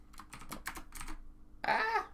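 A computer mouse clicks in quick, close succession during work on currency bid-price quotes, the crisp taps coming in irregular clusters and ending in a short louder burst, with no talking.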